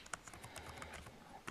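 Quiet, irregular typing on a physical keyboard connected to an Android device, with soft scattered key clicks close by.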